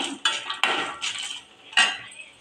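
Fried ingredients for a spicy eggplant garlic dish are tipped from a pan onto a plate to cool, several close metallic clinks and scrapes of a spoon against the dishware.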